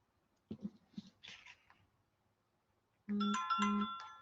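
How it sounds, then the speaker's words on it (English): A mobile phone rings during a junk journal crafting session, sounding as two loud, repeated electronic ringtone bursts with bright tonal harmonics that follow a few softer handling noises and a quiet gap. "Guess I should have turned my phone off."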